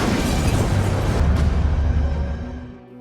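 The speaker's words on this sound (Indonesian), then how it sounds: "si pemimpin itu malah tak sengaja menginjak ranjau, sehingga membuat ledakan besar pun terjadi di sana" Landmine explosion in an action film, a single loud, deep boom with a rumbling blast tail that fades away over about three seconds, with no speech.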